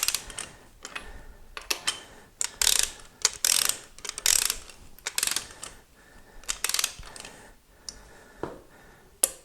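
Ratchet wrench snugging down a bolt on an Oldsmobile 455 engine during a rebuild, a close series of quick clicking bursts in uneven strokes with short pauses between, loud and alone with no talk.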